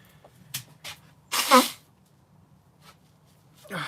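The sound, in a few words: person blowing their nose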